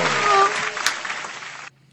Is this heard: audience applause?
yes